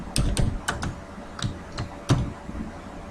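Python code typed on a computer keyboard, with a quick run of sharp key taps spaced across a few seconds and a firmer press near the end, heard up close with no talk.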